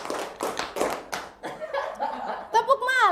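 A group clapping in bursts of patterned claps for a clapping game, sharp and close, with brief voices and a chuckle between the rounds.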